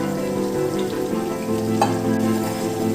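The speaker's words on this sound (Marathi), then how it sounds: "कढईत तेल टाकून मोहरी, कांदा, गुलाबी सर्व परतून घ्यावा" Mustard seeds and chopped onion fry in hot oil in a wok, a steady close sizzle with faint stirring scrapes throughout, no voices.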